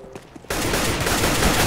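Sustained rapid automatic gunfire in CS:GO bursts in abruptly after a quieter moment, loud, dense and continuous to the end.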